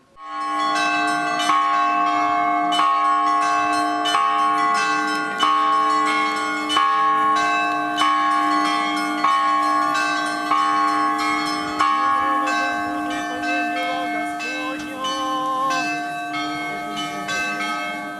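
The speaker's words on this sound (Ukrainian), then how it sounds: "Дзвонив у церковні дзвони" Church bells ring for a monastery's patronal feast day. Several bells of different pitches are struck in a continuous, rhythmic peal that stays loud and steady and rings out alone with no voices.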